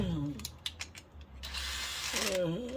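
A part is screwed into a watch winder conversion. A few quick mechanical clicks and a short ratcheting whir sound up close, with brief voice sounds at the start and end.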